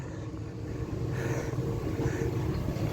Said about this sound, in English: the truck has been running for about 20 minutes.